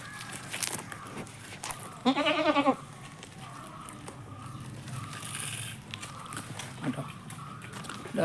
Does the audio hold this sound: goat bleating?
yes